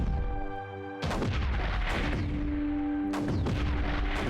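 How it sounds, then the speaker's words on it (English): Explosions in the video game Creeper World 4: a loud burst of booming blasts hits around one second, followed by rumbling, crackling detonations and a second heavy burst near three seconds, set over a steady game music drone. "I keep hearing those explosions."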